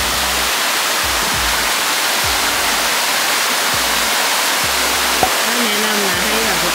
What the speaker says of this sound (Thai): น้ำตกอยู่ข้างหลังแล้วควันขึ้นเลยอ่ะ